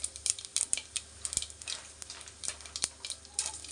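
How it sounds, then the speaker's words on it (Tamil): Mustard seeds and curry leaves crackle and sizzle in hot oil for a vegetable biryani, with a steady quiet frying hiss broken by irregular sharp pops. "கடுகு கொஞ்சம் போட்டுட்டு, கருவேப்பிலை போட்டாச்சு"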